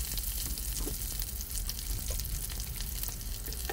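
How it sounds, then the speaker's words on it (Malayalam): Onions, red chillies and curry leaves frying in oil in a pan for a Kerala meal, a steady dense sizzle with crackling throughout, close and continuous, no voices. "അപ്പോൾ ഈ ഉള്ളിയൊക്കെ ഇപ്പം മൂത്ത് വരുന്നുണ്ട്"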